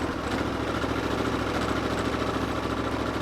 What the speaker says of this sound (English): we can hit the engine start from back here